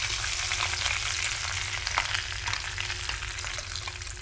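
Ground masala hitting hot oil in a kadhai tempering of cumin seeds and curry leaves, a steady loud sizzle and crackle with a few faint clinks, continuous and close, no voices.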